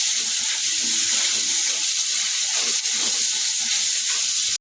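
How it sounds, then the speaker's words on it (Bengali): Sliced potatoes frying with a little salt in hot oil in a wok give a steady, close sizzle with faint stirring scrapes underneath, continuous throughout. "ভেজে ভেজে ভাজা ভাজা করে নেবো একটু হালকা একটু ভেজে নেবো"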